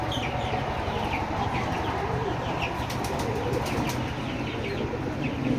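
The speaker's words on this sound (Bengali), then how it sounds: "এই হচ্ছে আমাদের কবুতরের খামার।" Pigeons at a farm in Betikhola, Keshabpur, Jessore, flap their wings and coo amid scattered chicken clucks, a busy steady bird din with occasional wingbeat bursts.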